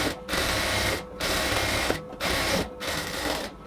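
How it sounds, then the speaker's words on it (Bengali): Sewing machine stitching a side seam on an XL-size women's top, running in four close, steady bursts separated by brief pauses. "এবার আমরা পাশে আরেকটা সেলাই দিয়ে নিব।"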